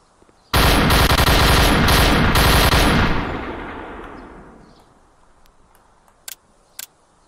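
Gunfire in the PUBG VR video game: a loud, rapid automatic burst lasts a few seconds, then trails off into a fading echo. Two separate single shots follow a moment later.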